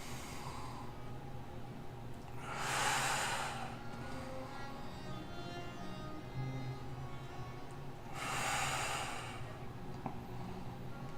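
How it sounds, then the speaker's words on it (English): Slow, deep yoga breaths: two long, soft airy exhalations a few seconds apart over a quiet background, with no talking. "Breathing in and out."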